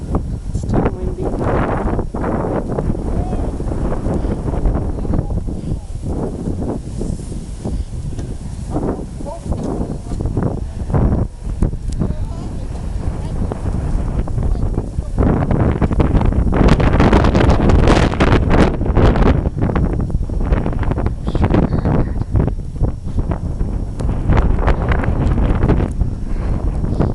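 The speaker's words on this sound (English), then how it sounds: "It's still windy." Strong gusting wind during a New York blizzard on an unplowed major roadway buffets the microphone in loud, roaring surges, rising and falling throughout.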